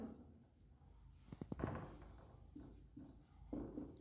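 Marker or chalk scratches across a board during a chemistry lecture on atomic and metallic radius, heard as a few short, separate strokes at moderate closeness in a quiet room.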